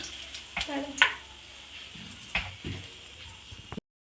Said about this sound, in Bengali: এবার ডিম পোচগুলো এক এক করেই আমি সবগুলোই ভেজে নেব।